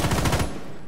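A rapid burst of automatic gunfire spraying a wall in Rainbow Six Siege, loud close shots in quick succession for about half a second, then fading into a brief tail.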